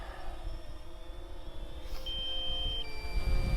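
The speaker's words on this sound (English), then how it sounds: "You can hear the little alarm going off in my speakers." DJI Phantom 3 Standard drone controller sounding a low-battery warning, a faint steady electronic tone that shifts pitch briefly, over quiet outdoor background.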